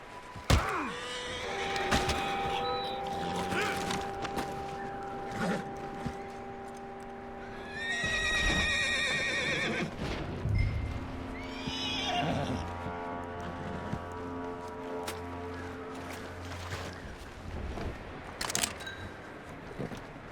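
A horse whinnies loudly several times in the video game Red Dead Redemption 2, with hoof clops and clunks amid a busy game soundscape and music.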